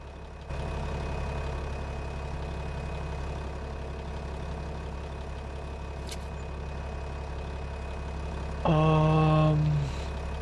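A tractor engine idles in Farming Simulator 25 with a steady, low, continuous rumble. Near the end, a brief louder tonal hiss rises over it.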